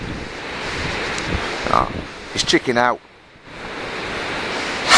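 A river in Iceland rushes with a steady watery roar and wind buffets the microphone, while people talk briefly over the flow.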